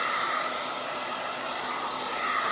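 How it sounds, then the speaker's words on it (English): A blow dryer runs steadily and loudly, drying paint on a baseball or softball glove, a constant airy hiss from start to finish with no talking. "I'm gonna have to get the blow dryer on these two right here"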